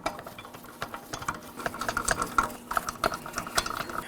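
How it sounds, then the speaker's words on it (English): A torque wrench tightens 21mm lug nuts on a 2013-2019 Nissan Sentra. It gives quick runs of fine ratcheting clicks, close and fairly quiet, with small metallic taps in between. "torque each of these lug nuts to 87"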